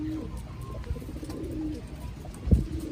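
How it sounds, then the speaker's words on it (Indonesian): A pigeon coos nearby in soft, low, throaty rolling calls, repeated a few times over quiet background rustling, with a brief thump near the end. "Ini mungkin kita perlu berkenalan dengan merpati ini ya."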